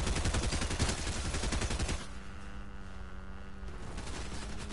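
A rifle in Fortnite fires a rapid burst of loud, close shots for about two seconds, then cuts out. A quieter hum from the game lingers afterward, and one more shot comes near the end.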